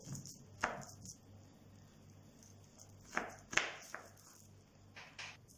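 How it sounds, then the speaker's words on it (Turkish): A knife slices chilled chocolate-chip cookie dough into finger-thick rounds on a board, giving a few sharp, separate cuts over quiet background hum, with two closely spaced chops near the middle. "Şöyle bir parmak kalınlığında kesiyorum."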